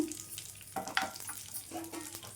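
Fish pieces sizzle and crackle steadily in hot oil in a pan, quiet and close, with a few light stirring and scraping touches.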